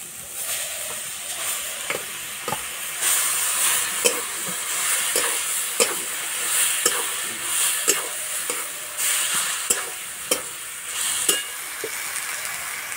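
Mashed cabbage fries in a pan with turmeric powder, giving a steady close hiss and sizzle broken by repeated rhythmic stirring scrapes and taps.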